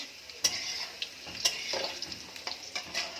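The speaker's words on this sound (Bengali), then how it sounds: "এখানে চিকেনের জন্য আলু লাল করছি" Potatoes for chicken curry frying in hot oil in a pan, a steady sizzle broken by sharp clicks and scrapes of a stirring utensil against the pan, close and moderately loud, without speech.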